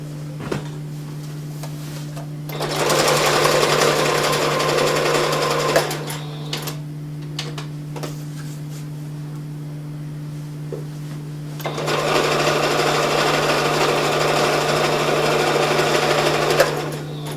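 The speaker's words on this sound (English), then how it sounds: "We're just going to sew the last edge here." Sewing machine stitching the final edge of a soft fleece travel pillow, running in two steady bursts of about three and six seconds, with a quiet pause of scattered handling clicks between them and a constant low hum underneath.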